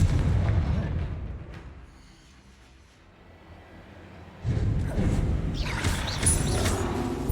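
A Confringo blasting spell explodes in the Hogwarts Legacy video game: a loud rumbling blast that fades, then a second heavy burst of explosive crackling noise.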